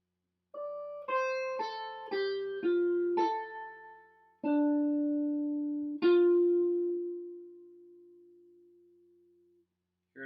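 Guitar plays the final phrase of a song as clean single plucked notes, a quick descending run ending in a long ringing held note, clear and close with no voices.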